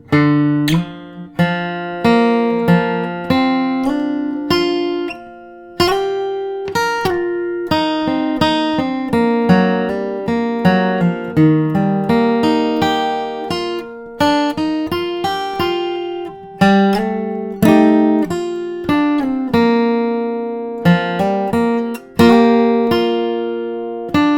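Slow bluegrass acoustic guitar solo played with a capo, single plucked notes and occasional chords ringing out one after another at an unhurried pace, clear and close, no voices.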